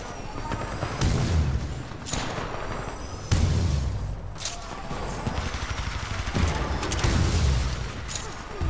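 Heavy Kraber sniper rifle shots in the Titanfall 2 video game boom out at irregular intervals of about one to two seconds over continuous game noise, with faint talk.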